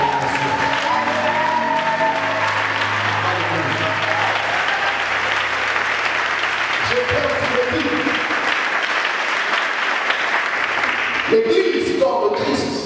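Church congregation applauding and acclaiming God in loud, sustained clapping and cheering from a large crowd, steady throughout with music or voices underneath and a brief swell near the end.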